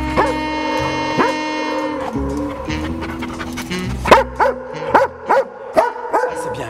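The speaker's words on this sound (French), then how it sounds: "lui va me signaler qu'il a découvert en aboyant." A police drug detection dog whimpers and yips, then breaks into a series of sharp, rhythmic barks close by, signalling a find, with some background talk.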